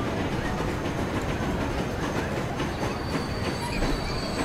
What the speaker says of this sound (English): I think that's the Chicago Buffalo train.